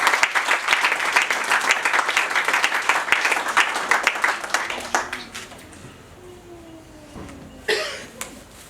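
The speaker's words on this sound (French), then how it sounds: "Acclamons très bien les Seigneurs." A congregation applauds during a church wedding, with loud, steady clapping from a crowd that fades out after about five seconds, leaving a quiet room, a short voice and a brief burst of noise near the end.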